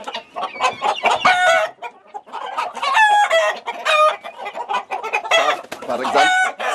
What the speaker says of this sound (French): Vous avez vu, c'est le coq Brahma.